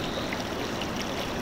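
Lake water from the Bhendwade village tank pours heavily over the spillway, a steady dense rushing roar that stays loud and unbroken throughout, with no voices.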